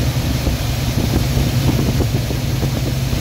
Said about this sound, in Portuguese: Acertando a lenta do Mustang aqui, ó.